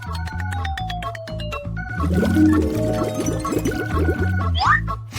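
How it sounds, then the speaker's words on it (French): Melted marmalade poured into a mould, a thick gurgling pour with wet splats and bubbly glugs, close up, over a background of rhythmic music with no talk. "Je le verse dans un moule et je fais des côtés d'un guimauve."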